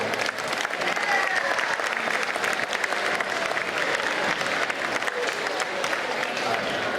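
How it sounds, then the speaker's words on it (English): Sustained audience applause after an 8th grade winter band concert at a school, loud and dense, continuing steadily for several seconds with a few faint voices underneath. "Let's give them one more round of applause."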